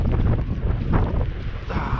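Strong wind gusts buffet the microphone outdoors on a farm, a loud, rough, continuous roar with no pause.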